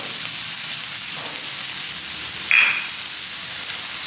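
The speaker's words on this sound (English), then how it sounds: "You can hear that sizzle." Beef shanks sizzle steadily on a very hot grill, a constant loud hiss with a brief sharper spurt partway through.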